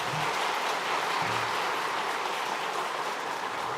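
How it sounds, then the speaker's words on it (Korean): Steady, dense applause from a church congregation welcoming newcomers at a Sunday service, broad and continuous throughout. "우리 잠깐 자리에 일어나실 때 우리 환영의 박수로 맞이하도록 하겠습니다"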